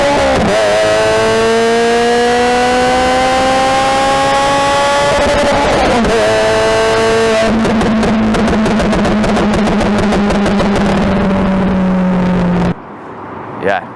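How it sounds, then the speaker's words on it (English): A Honda Civic Type R FN2 with a 230bhp K20 engine revs hard and close, its rising wail climbing through several gear changes before cutting off abruptly near the end. "The screaming high revving K20 engine"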